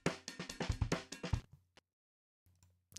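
Unprocessed drum loop: a quick run of punchy, close hits for about a second and a half, then a few faint ticks and near silence, with a soft return at the end.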